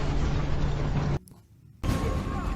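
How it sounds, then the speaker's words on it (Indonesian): A plane exploding in the Black Widow film: a loud, dense roar that cuts to near silence for about half a second, then the roaring blast noise surges back. "pesawat meledak membuat Natasha terpental"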